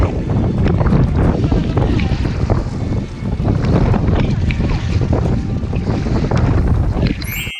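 Strong wind buffets the microphone in steady roaring gusts over a lake while kayaking, with faint splashing beneath.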